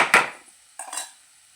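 A metal spoon clinks and scrapes twice against a pan while fried gobi manchurian cauliflower is stirred; the first clatter is sharper and the second is a softer, rattling scrape, both close and with no talk.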